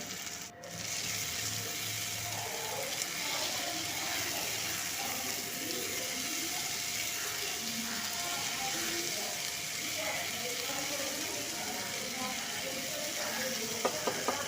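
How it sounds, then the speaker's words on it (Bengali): Shredded cabbage fries in oil inside a covered pan, giving a steady, continuous hiss with fine crackles and small pops at a moderate level throughout. "এগুলো তেলে দিয়ে দিলাম দিয়ে তেলের সঙ্গে এটা কিছুক্ষণ আমি ভেজে নেব"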